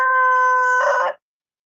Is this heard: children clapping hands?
no